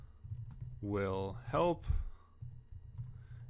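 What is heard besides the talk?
typing on a computer keyboard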